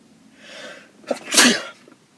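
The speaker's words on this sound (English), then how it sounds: "I'm gonna sneeze right now." A single sneeze: a brief breathy intake followed by a sharp, loud burst of air, close by, then quiet.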